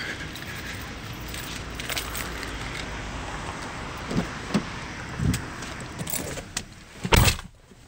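Someone getting into a Honda car: keys jangle softly near the start, then a few thumps and shuffles build to a solid door slam near the end, all close and with no talking.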